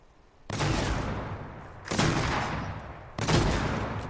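Three heavy bursts of gunfire ring out in a PC first-person shooter 1v1 match, each a loud sharp onset that trails off over about a second, evenly spaced with no talking.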